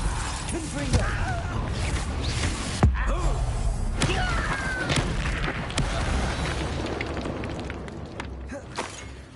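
A Confringo blasting spell goes off in Hogwarts Legacy amid a dense, loud game mix of booms, sharp cracks and creaking mechanisms, with a voice over the effects.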